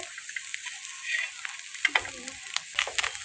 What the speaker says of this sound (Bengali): মাছগুলো এভাবে ভেজে অল্প আছে রেখে দিলাম মুসমুসে হওয়ার জন্যে